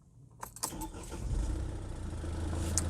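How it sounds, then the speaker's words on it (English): A 2011 Mercedes C220 CDI (W204) engine cranks and catches, then settles into a steady, low diesel idle at close range. "So let me just start the car"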